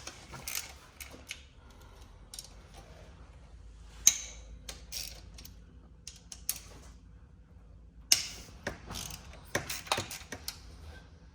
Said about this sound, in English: we got my 8 mil on my ratchet here, and we're going to start taking these out